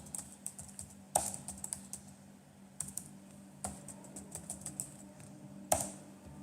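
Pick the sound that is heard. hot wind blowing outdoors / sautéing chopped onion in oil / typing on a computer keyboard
typing on a computer keyboard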